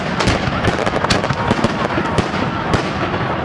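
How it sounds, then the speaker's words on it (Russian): Dense, continuous crackling and popping of a large Victory Day fireworks salute, loud and sustained with sharper bangs scattered throughout. "А кульминацией праздника Великой Победы стал грандиозный салют"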